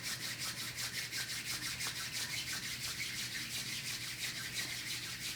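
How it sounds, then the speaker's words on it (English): Palms rub briskly together in a steady back-and-forth rhythm, making close, soft, dry swishing strokes roughly five per second without any talking. "Bringing your hands together, your palms to touch and starting to rub through the hands."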